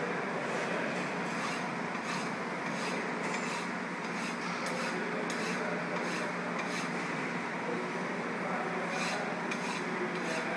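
A hand file rasps steadily across the surface of a metal block being squared, deburring it with continuous close scraping strokes and no talking.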